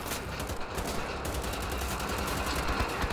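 Pistol fire in Wolfenstein: The Old Blood, a dense stream of sharp repeated shots with loud, fast cracks over a continuous noisy background.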